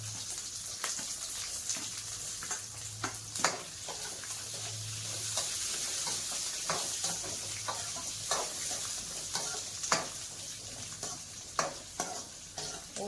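Whole small onions sizzling in hot oil in a frying pan, a continuous close hiss broken by clicks and scrapes of stirring, with no talk.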